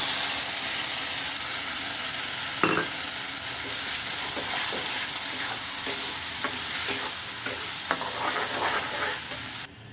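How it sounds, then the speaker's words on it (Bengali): Taro paste frying with garlic in a pan makes a loud, continuous sizzle and hiss, broken by occasional scrapes and knocks of stirring. "এবার আমি বেটে রাখা পেস্ট করে রাখা কচুটা এর মধ্যে দিয়ে দেবো।"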